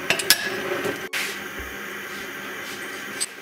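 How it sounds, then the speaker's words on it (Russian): Buckwheat being stirred in an Afghan kazan, with a spoon scraping and clinking against the metal pot in a few sharp knocks and a steady rustling scrape, close and moderately quiet. "мы начинаем это все перемешивать"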